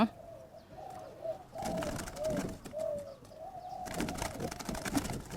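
Large white and wild-coloured spotted doves in hanging cages coo repeatedly in rolling phrases, fairly close, over a steady background hum with bursts of broadband noise.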